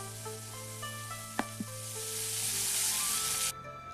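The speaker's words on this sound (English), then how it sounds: "we're going to continue to fry the shrimp until it's cooked" Shrimp frying in a pan on the stove makes a close, steady sizzle that swells louder with two quick utensil taps, then cuts off abruptly near the end, leaving a low hum.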